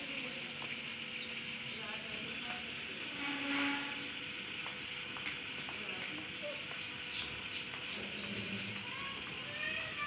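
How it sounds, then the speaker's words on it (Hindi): Onions frying in hot oil in a pot for degi chana pulao, a soft, continuous crackling sizzle with faint stirring scrapes throughout, fairly quiet and steady. "ऑयल गर्म करने के बाद उसमें प्याज ऐड किया है।"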